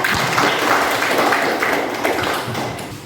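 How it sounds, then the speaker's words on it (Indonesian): A class of students applauds two classmates after a presentation during a classroom lesson. The clapping is moderate, busy and close, with a few distinct slaps, and continues evenly before easing slightly at the end. "Beri tepuk tangan untuk Anda dan Arisa"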